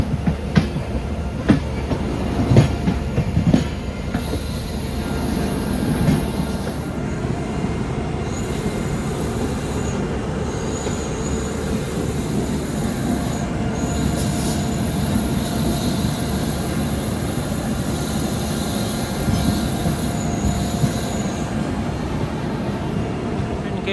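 The Howrah–Ranchi Shatabdi Express overtakes on an Indian railway line, a long continuous roar of wheels and coaches close by with rhythmic rail clatter and intermittent high wheel squeal throughout.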